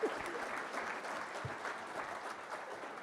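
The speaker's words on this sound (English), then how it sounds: "So give them a round of applause," At a safety kickoff gathering, a room full of people applauds two guests with steady, dense clapping, heard at a distance and fairly quiet, with one brief louder clap near the start.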